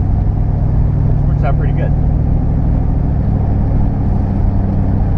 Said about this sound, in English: you get to use the engine noise to drown out people's loud music like that